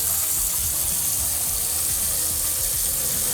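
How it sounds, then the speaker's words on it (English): Cool tap water runs steadily into a bowl in a kitchen sink, a continuous bright hiss and splash with no pauses, close and fairly loud. "I want it submerged in cool running water."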